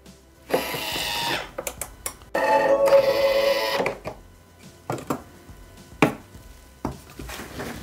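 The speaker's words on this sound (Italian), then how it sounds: "ed azionare il bimby per 8 minuti, 100 gradi, antiorario," A Thermomix (Bimby) TM6 running at 100 degrees on reverse soft speed, cooking pasta with peas, speck and mushrooms: a mechanical whir in a few sustained stretches, broken by sharp clicks and knocks between them.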